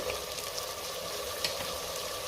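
Potato, peas and soaked chana dal sauté in a pan, giving a steady, fine crackling sizzle with faint spattering pops throughout. It is fairly quiet, with no talk.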